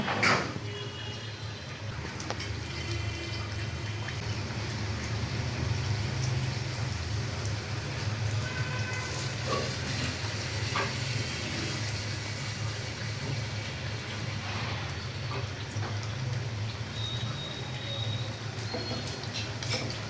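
Vegetable patties frying in hot white oil in a wok, a steady close crackling sizzle that carries on evenly throughout.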